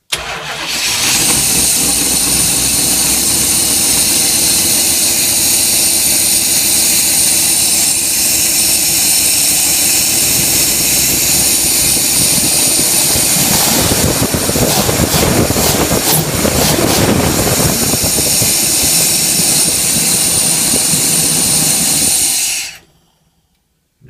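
A 1975 Chrysler 440 V8 with FiTech fuel injection cranks, fires and settles into a loud, steady idle with a brief throttle rise midway, then cuts off abruptly near the end.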